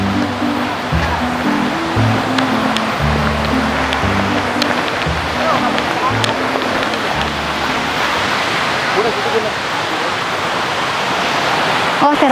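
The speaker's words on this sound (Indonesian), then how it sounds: "ternyata tempat terapinya di sana tuh, di air terjun itu" Steady roar of rushing water from a waterfall used as a therapy spot, loud and continuous throughout, with a low voice speaking faintly beneath the wash.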